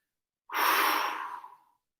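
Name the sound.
exhale through open mouth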